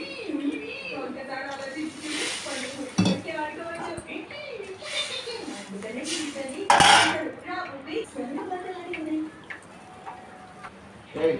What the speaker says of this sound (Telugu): చామగడ్డలు కూడా వేసుకొని కొంచెం బాగా కలిపేసుకున్నాము